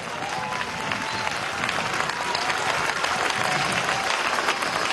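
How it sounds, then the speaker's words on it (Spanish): Loud, dense crowd applause at a political march against violence toward women in Venezuela, a steady roar of many hands clapping for the full stretch with no break. "Para ella un gran aplauso, para Cilia."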